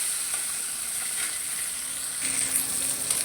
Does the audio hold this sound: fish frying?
yes